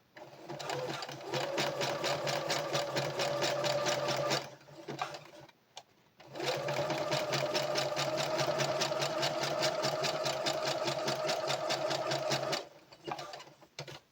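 A sewing machine stitches a zigzag across a hair bonnet in two long continuous bursts of rapid, even mechanical clatter, with a short pause between them and a brief stop at the end.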